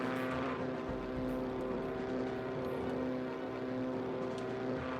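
Warplane in the Heroes of the Pacific combat video game droning steadily, a continuous loud propeller engine hum with no breaks.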